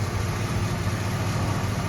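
A 1971 Buick LeSabre engine idles with a new stock-style muffler, giving a steady low rumble that stays constant and moderately loud for two seconds.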